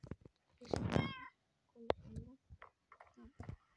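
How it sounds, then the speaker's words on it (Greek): Cats in Minecraft meow several times, short clear close mews spaced apart, with soft clicks between them. "συνήθως οι γάτες έρχονται πάνω."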